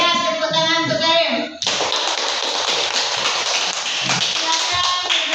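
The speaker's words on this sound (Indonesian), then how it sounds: "Ya, tepuk tangan untuk Karim." Schoolchildren in a classroom clap their hands together in a burst of brisk applause, many hands tapping in quick irregular rhythm, close and lively, preceded by a teacher talking and with small voices mixed in.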